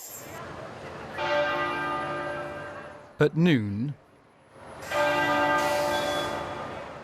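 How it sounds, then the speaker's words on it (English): Church bells ring out in long, resonant peals from British abbeys and cathedrals marking the Queen's death, pausing briefly while a voice speaks, then ringing again. "bells rang out in abbeys and cathedrals across the country"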